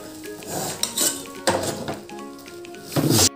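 Metal pans and utensils clink and clatter in bursts while a kaipola banana cake is turned over in a pan, several sharp knocks and scrapes close by.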